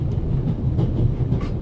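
In the video game The Raven, a train rolls along its rails aboard an Orient Express-style journey, making a steady low rumble with a faint rhythmic clatter and no speech over it.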